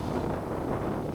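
Strong wind on a mountaintop buffeting the microphone, a loud low roar that stays constant through the short moment.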